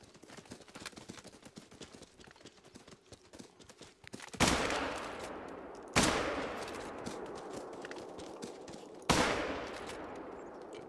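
Three loud, sharp rifle shots in the hunting game Call of the Wild, spaced irregularly with ringing decays, over a background of drumming hoofbeats from a stampeding herd.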